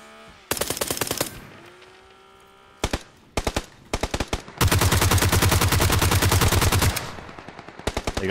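Bursts of automatic gunfire and single shots in a PUBG match on Xbox One, loud and close, with a long sustained volley in the middle and scattered short bursts around it.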